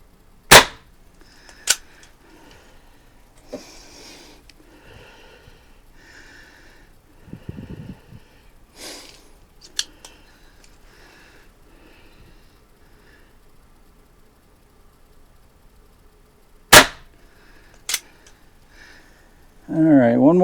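Several sharp, loud pops from a Diana Chaser .22 caliber CO2 pistol ring out one at a time with long gaps between them, while someone talks quietly in the pauses.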